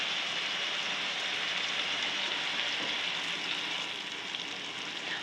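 Green chillies fry in a pan of oil for a new-style egg dish, giving a steady, dense hiss and crackle that stays even and close throughout with no voices.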